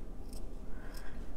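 Scissors snip twice, each a short, crisp cut about half a second apart, close by and fairly quiet over low background noise.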